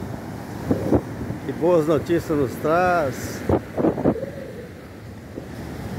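Surf at Grussaí beach in Rio de Janeiro state washes steadily at eight in the morning under someone speaking Portuguese, with wind buffeting the microphone.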